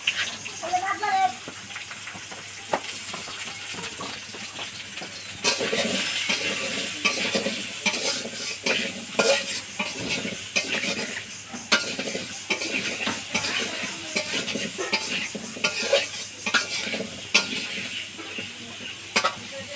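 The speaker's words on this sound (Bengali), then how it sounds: "এখন আলু ভাজি হচ্ছে" Potatoes frying in a pan for a meat curry, giving a steady close sizzle with stirring scrapes throughout. Voices talk over it now and then.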